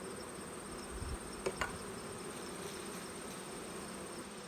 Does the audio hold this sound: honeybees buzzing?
yes